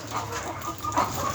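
Chickens cluck in a poultry pen on a 600-bird farm in Ghana, a short burst of close, overlapping clucking with soft farmyard background and no talk.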